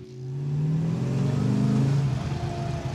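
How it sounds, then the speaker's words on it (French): A Plymouth Roadrunner, a NASCAR-derived road car, accelerates hard, its engine note rising in a loud mid-range roar that swells over about two seconds and then eases, with no talking. "Alors, ça accélère vite, hein?"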